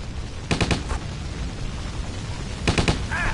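Two short bursts of rapid gunfire cut down zombies in a video game, a quick volley of cracks early on and another near the end, set against a steady noisy game background.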